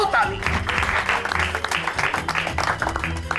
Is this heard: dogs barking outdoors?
no